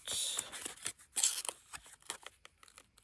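Scissors trimming the edge of a small flipbook made from a recycled tea box, a close run of crisp snips and sliding cuts with brief papery rustles between them.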